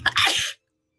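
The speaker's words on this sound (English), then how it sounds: "why didn't you give me a tissue before I sneezed?" A single close, sharp sneeze from an adult woman, a quick burst of breath and nasal release that stops abruptly and leaves silence after it.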